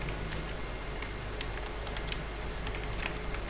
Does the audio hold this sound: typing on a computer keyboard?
yes